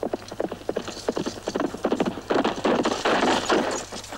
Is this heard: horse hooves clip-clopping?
yes